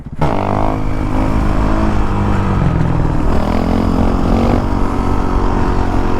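A dual sport motorcycle on Shinko adventure trail tires revs hard during a wheelie, a loud close engine roar with rising and falling pitch as the throttle opens and eases, with no talking.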